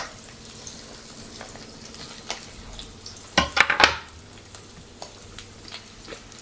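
Curry leaves dropped into hot oil in a home kitchen for tempering a fish curry, a quiet background sizzle broken by a short burst of sharp crackling pops, with faint utensil clinks.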